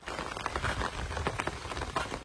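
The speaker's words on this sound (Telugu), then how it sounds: "మళ్ళీ వాన స్టార్ట్ అయింది" Steady rain pattering on surfaces during a night walk, a dense close hiss of drops with irregular louder splats, continuous throughout with no talking.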